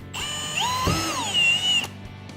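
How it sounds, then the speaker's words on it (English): A power drill whines as it bores through an Otter Outdoors XT Crossover shelter sled during assembly, one short burst of rising and falling motor pitch, fairly close. "you are going to take your drill and you are going to drill through to the other side"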